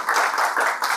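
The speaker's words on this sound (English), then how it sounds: "Give yourselves a round of applause." An audience at a business seminar claps in applause, a dense, steady patter of many hands heard from within the room for a short moment.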